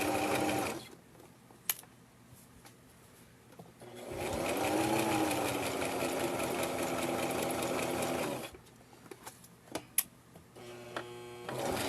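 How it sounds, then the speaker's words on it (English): A sewing machine stitches fabric in one continuous whirring run of about four seconds, close and steady, framed by quieter clicks and handling sounds of the machine before and after. "your sewing machine as you're sewing"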